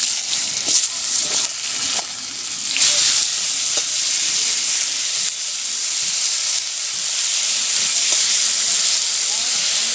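Pointed gourd (potol) frying in oil in a pan, a steady bright sizzle and hiss throughout with occasional stirring clatter, close and loud, no voices.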